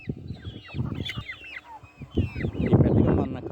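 A hen clucks close by with her chicks around her, low throaty clucks mixed with repeated high thin peeping from the chicks, a faint voice briefly in the background.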